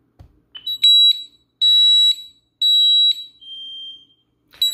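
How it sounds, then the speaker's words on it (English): A home alarm panel sounds a manual fire alarm: loud, shrill electronic tone pulses, four long beeps in a steady on-off rhythm with short gaps, heard up close and alone with no talking. "To sound a manual fire alarm"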